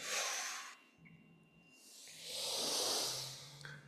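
Deep breathing during a yoga fold, one long breath followed by a second longer breath, both airy and close, with no talk over them.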